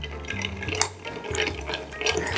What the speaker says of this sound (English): Grab a bar spoon and stir.